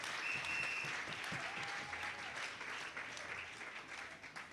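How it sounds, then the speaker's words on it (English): Audience applause at a Reggae University event saluting a veteran reggae DJ, a continuous, fairly distant patter of many hands clapping, faint overall with a few whistles riding on top. "please, a big round of applause"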